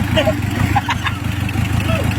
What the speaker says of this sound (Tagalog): Sir, ayan na, umandar na yung makina mo.